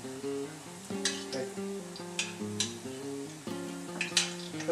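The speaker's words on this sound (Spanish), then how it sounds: "depende de cuán caliente está tu aceite, un minutito, vuelta y vuelta por cada lado" Plantain slices frying in hot oil, a steady sizzle close by with intermittent scraping and clinks as the pieces are stirred, while a sustained musical tone plays underneath.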